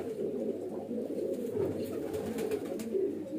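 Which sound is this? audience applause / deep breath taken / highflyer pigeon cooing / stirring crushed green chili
highflyer pigeon cooing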